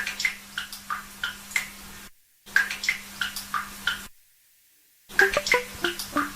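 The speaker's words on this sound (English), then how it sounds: "this is a different sound that the dripping faucet made" Water drips falling in a steady, uneven rhythm, each drop a clear plink, broken by two short silent gaps.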